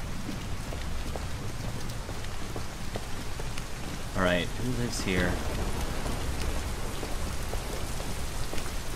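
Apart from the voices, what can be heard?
heavy rain in video game Detroit Become Human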